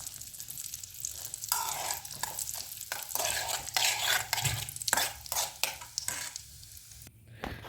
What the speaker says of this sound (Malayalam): ഇതിലേക്ക് നമുക്ക് അണ്ടിപ്പരിപ്പ് നമുക്ക് വറുത്ത് കോരിയെടുക്കാം